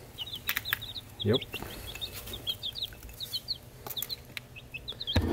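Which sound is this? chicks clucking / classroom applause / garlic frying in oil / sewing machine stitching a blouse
chicks clucking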